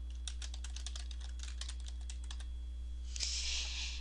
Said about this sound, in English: For name, go ahead and type the name.